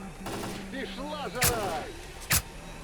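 Gunfire in the shooter game S.T.A.L.K.E.R. Clear Sky: two sharp, loud single shots cracking out over a murky background of game ambience and whining tonal sounds.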